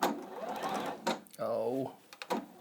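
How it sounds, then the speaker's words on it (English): A domestic sewing machine stitches a quilt seam in short bursts, a brief mechanical whirring run mid-clip between pauses, with someone talking before and after it. "this time I'm going to sew it the other way round"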